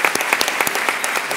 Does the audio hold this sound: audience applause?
yes